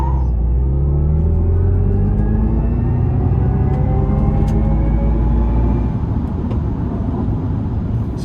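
A 2026 Chevy Silverado EV Trail Boss Max Range pickup in its boost mode accelerates hard, giving a loud, steady low rumble of road and drivetrain noise with a faint rising whine, heard from inside the cab with no talking.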